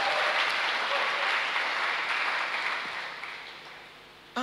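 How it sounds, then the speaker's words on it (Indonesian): A congregation claps for God, a fairly faint but full wash of applause that starts strong and gradually fades out, with a sharp sound cutting in at the very end. "Tepuk tangan sekali lagi buat Tuhan dong."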